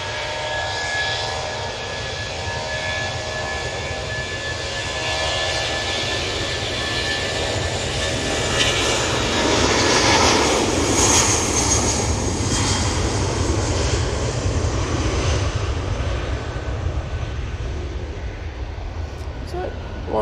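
An airliner departs Manchester Airport bound for Heathrow, its engines a loud, steady roar that swells and holds for the full stretch, with voices talking over it.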